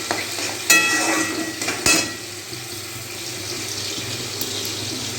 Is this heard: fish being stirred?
yes